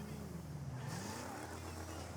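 An armored car driven in GTA 5 gives a steady engine roar that climbs in pitch as it speeds up, with a rising whine and a burst of brighter high noise partway through, close and continuous.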